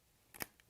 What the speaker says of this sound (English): you're just going to cut a little slit